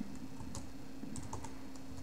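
Quiet, irregular clicks of keys on a computer keyboard as a name is typed during a Linux installation, with soft taps spread over a low steady background hum.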